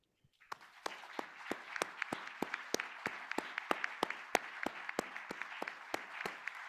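Audience applause after panel presentations at a human rights event, with one sharp, close, evenly paced clap standing out over a softer spread of clapping from the room.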